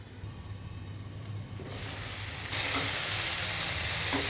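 Chicken sautéing in a pan over a high flame, a hiss that rises in stages into a loud, steady broadband sizzle, close up with no voices.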